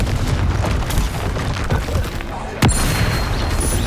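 A Confringo fire spell bursts in Hogwarts Legacy with a booming explosive thump over a dense, noisy game soundscape of crackling combat and rumble.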